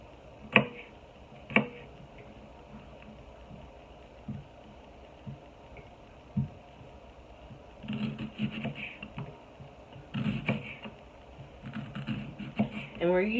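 A knife taps and chops on a cutting board while cutting ingredients for pickled eggs. Sparse, distinct knocks come first, then a denser burst of cutting near the end.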